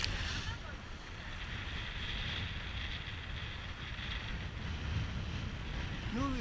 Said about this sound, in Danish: Den kæmper sig op imod super fede bølger og masser af vind.